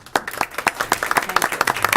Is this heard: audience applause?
yes